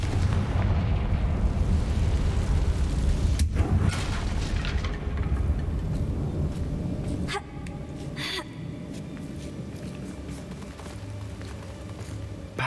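A Confringo spell explodes in Hogwarts Legacy, a deep rumbling boom that rolls on under dense low game noise, followed by sharper cracks and bursts that fade into a lingering roar.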